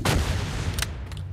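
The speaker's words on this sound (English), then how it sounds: "that sounds like an actual cannon shot" A cannon fires once in the video game Apewar, a sharp loud boom at the start with a rolling low rumble lingering afterward and a couple of fainter cracks later, no voices.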